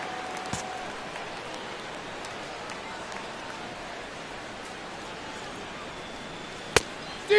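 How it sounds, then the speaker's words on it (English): Steady, soft rain falls in MLB The Show 17 baseball game audio, a faint even patter throughout with a couple of brief sharp ticks near the end. "Rain continues to fall here in the 6th."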